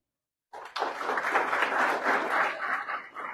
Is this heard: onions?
no